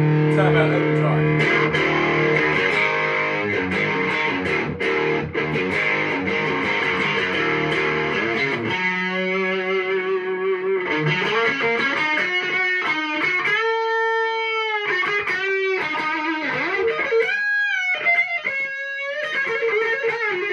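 An electric guitar plays through a Boss DS-2 Turbo Distortion pedal, chords first and then sustained, bending single notes, loud and up close.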